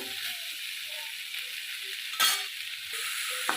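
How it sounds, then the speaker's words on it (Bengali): Okra sizzles steadily as it fries in a pan for a Bengali prawn-and-okra dish, a constant hiss with a louder burst of crackle near the middle and light scraping between. "ভালো করে আমি ঢ্যাঁড়সটা ভেজে নেবো আগে প্রথমে"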